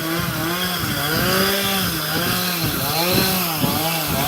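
A chainsaw used for trimming trees revs loudly and close, its engine pitch rising and falling in repeated swells over a continuous roar.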